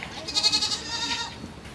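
Goat bleating up close, one loud wavering cry with a tremulous, nasal quality that trails off, followed by faint farmyard background.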